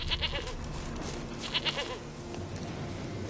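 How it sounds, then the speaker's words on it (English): A goat in a video game gives a couple of short bleats, spaced apart and moderately close, over a low ambient game soundscape. "Here, goat. Here, princess."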